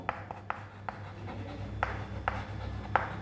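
Chalk or pen writing an equation during a maths lesson on exact differential equations, heard as a run of faint, brief scratchy strokes spaced irregularly, with no talk over them.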